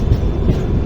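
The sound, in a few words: Karwar Express train arriving at Mangaluru Junction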